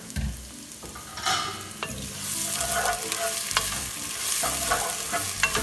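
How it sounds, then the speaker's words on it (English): Grated coconut and freshly added oil fry in a pan for chicken hariyali, crackling with a dense, continuous sizzle. Stirring strokes and scrapes break through the sizzle throughout, and no one speaks. "So now the coconut has left its kind of oil, and to this I'm going to add my oil now."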